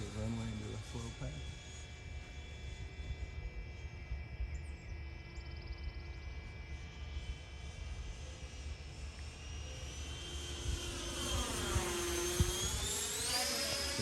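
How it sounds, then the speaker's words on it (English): Freewing A-4E/F Skyhawk 80mm ducted-fan RC jet with a 5280RC afterburner makes a slow pass, a steady loud turbine-like whine that swells and sweeps in pitch as it nears and goes by at the end. "We'll come around to the runway and do a slow pass."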